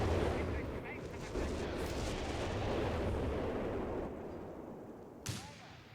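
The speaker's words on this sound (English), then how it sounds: "Let's see the walking Stuka barrage." Artillery barrage in Company of Heroes 3, a walking Stuka rocket strike rolling across the battlefield: continuous dense rumble of explosions and gunfire at steady loudness, with a sharper blast near the end, no talk.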